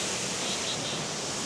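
Steady, full rush of a waterfall in flow, a dense unbroken roar with no distinct splashes, heard close and alone.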